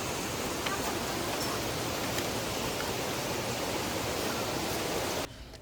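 Meenmutty Waterfalls, beside an Ayyappa temple near Trivandrum, gives off a dense, unbroken roar of falling water, close and loud, that cuts off abruptly just before the end.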